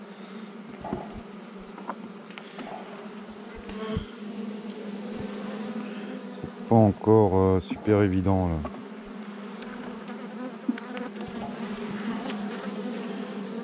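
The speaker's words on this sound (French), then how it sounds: "il n'y a plus beaucoup d'abeilles hein," Constant low buzzing of a crowd of honey bees on a hive frame nearby, with someone briefly speaking French over it midway before the hum carries on alone.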